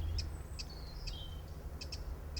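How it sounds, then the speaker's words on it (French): A wren gives a sharp, repeated alarm call at a woodland edge, several brief clicking notes with a thin whistled trill between, moderately near over a steady low rumble. "Là on a un troglodyte."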